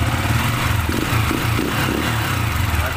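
A small motorcycle engine, slightly warmed up, revs up steadily from idle with a close, loud, buzzing drone and mechanical clatter, no voices over it.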